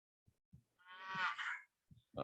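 A cow moos once as a sound effect, a single drawn-out harmonic bellow lasting about a second, framed by a few short soft clicks and bumps, with no talking.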